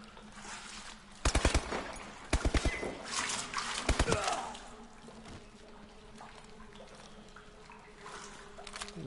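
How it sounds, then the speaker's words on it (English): Machine gun fire in Call of Duty: Advanced Warfare comes in three short rapid bursts, loud and close, followed by quieter battlefield ambience. "Machine gun, ho ho ho."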